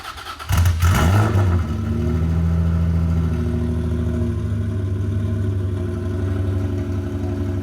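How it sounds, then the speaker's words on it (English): A Honda NSX engine starts with a sharp bark, then settles into a deep, burbling idle from a throaty exhaust, loud and close. "so we can hear how this exhaust sounds"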